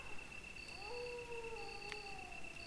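Zombie dogs in the video game Resident Evil let out a drawn-out, wavering howl that rises and then falls, over a steady background drone with a high tone, and no one talks over it.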